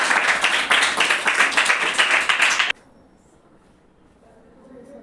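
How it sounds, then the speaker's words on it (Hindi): A Class 8 science classroom claps after a balloon force demonstration. Dense, lively clapping fills the room for nearly three seconds, then cuts off abruptly into quiet room tone. "ताली इसके लिए भी बजा दीजिए।"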